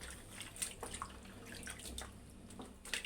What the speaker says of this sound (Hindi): उसमें पानी भर लेंगे